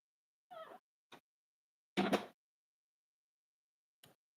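Abby, a pet cat, gives a few short meows and chirps spaced across a quiet room, one louder and longer than the rest, with a faint brief call near the end.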